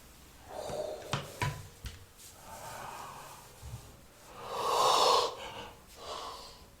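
Several breaths drawn and released during seated chair yoga, with a long, loud exhale swelling in the middle and softer breaths and a few small knocks around it, close up with no talking.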